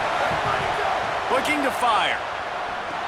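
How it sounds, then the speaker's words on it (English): Stadium crowd roar from the EA Sports College Football 27 video game, a steady broadband swell that rises and falls slightly beneath a commentator's voice. "this crowd is turning it up a notch"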